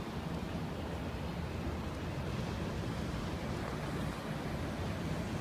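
Sea waves surge steadily onto Barceloneta beach in Barcelona, a dense, continuous wash of surf mixed with wind rumble and no distinct breaks, heard fairly close with no voices.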